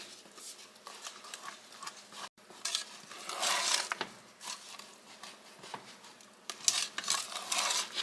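Hot chocolate mix being stirred in a pot for homemade peanut brittle, with brisk scraping strokes and a light sizzle in an irregular rhythm.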